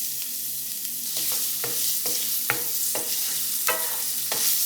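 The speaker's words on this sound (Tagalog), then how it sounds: "Then, maggisa tayo ng bawang" Chopped garlic sautéing in a hot pan for a mojos dish, with a steady bright sizzle and repeated scraping stirs of a utensil against the pan, close and alone.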